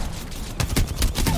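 Golden gun firing in a shooting video game, a few loud sharp shots in quick succession with dense game noise underneath.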